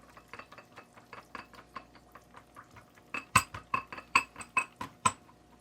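A whisk clicks rapidly against a bowl while yogurt is mixed with chaat masala and black salt. Light, even metallic taps turn into louder, sharper strokes for the last few seconds, with no talking.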